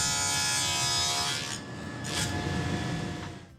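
A saw cutting a box joint guided by a shop-made jig, one steady rasping stroke for about a second and a half, then a softer second pass, close and loud with no talk.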